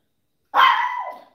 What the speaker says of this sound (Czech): Maxi pes